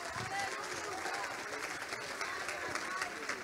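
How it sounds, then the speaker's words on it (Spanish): Congregation applause during a church service, a continuous crackling wash of many hands clapping at a moderate level, steady throughout with voices faintly mixed in. "Dale fuerte el aplauso al Señor."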